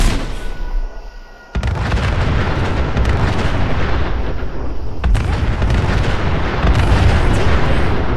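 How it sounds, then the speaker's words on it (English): Gunners open fire in the video game Fallout 4, a loud, dense barrage of booming gunshots and blasts that starts abruptly after a short quieter lead-in and continues without a break. "Looks like the gunners took the bait. Look, they're firing!"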